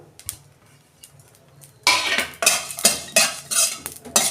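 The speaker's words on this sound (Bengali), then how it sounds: "মৌরি ডালচিনি লবঙ্গ জৈত্রী আর ছোট এলাচ এইটা একটু শুকনো খোলায় নেড়ে নেব" Whole fennel seeds, cinnamon, cloves, mace and green cardamom are stirred in a hot dry pan for chilli chicken, giving a loud run of scraping, rattling strokes in a steady rhythm after a quiet opening with a few light clinks.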